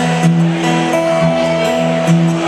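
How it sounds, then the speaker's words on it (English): An acoustic guitar is picked Piedmont style with an alternating thumb bass under treble notes, a steady close rhythmic pattern played alone without talk. "he did what was called Piedmont style, or alternating pick"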